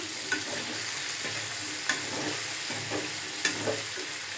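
Potatoes frying with browned onions in a pan, a steady sizzle running throughout, broken by a few sharp scraping stirs of a utensil against the pan.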